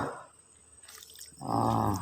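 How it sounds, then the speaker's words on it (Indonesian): Liquid organic fertilizer made from grass is poured onto garden plants, giving a splashing, dripping pour of water-like liquid in two bursts with a quieter gap between them. "Seperti inilah nyiram-nyiramkannya."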